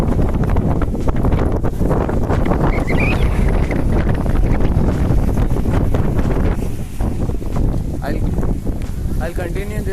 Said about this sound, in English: It is very windy over here.